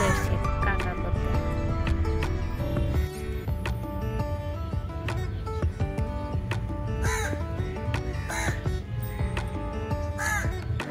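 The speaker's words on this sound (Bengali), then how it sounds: "আবার কাকও চলে এসছে কাকা করতে।" A crow caws several times at a distance, its harsh calls repeating over a continuous bed of music.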